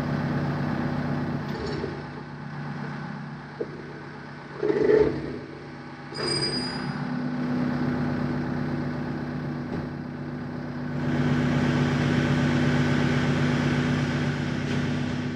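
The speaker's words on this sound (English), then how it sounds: "You can hear me over the tractor." A John Deere tractor pulling a 750 drill idles steadily throughout with a deep, constant hum, growing slightly louder toward the end; no talking.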